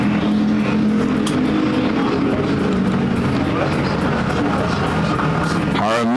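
A pack of American Factory Stock cars roars at the green flag start at Perris Auto Speedway, a dense, loud, steady engine drone with a car passing near the end, under a track announcer.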